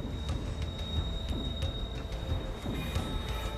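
A heavily loaded freight train carrying lead, zinc and silver ore rumbles steadily across the high, barren Altiplano plain of Peru, a continuous rolling clatter with faint periodic knocks of wheels on rail joints.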